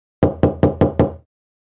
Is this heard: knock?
yes